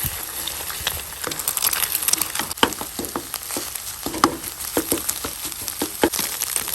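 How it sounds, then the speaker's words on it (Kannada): Eggs fry in a pan for an egg rice dish, giving a steady, close crackling sizzle with scattered sharp pops and spatters throughout, no talking over it. "ಈಗ ಮೊಟ್ಟೆ ಒಳ್ಳೆ ರೀತಿಯಲ್ಲಿ ಫ್ರೈ ಆಗಿದೆ"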